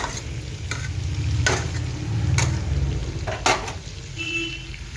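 Potatoes and young turnip being sautéed with red chilli powder for a rohu fish curry, a steady low frying sizzle with occasional stirring scrapes and clinks of a utensil against the pan.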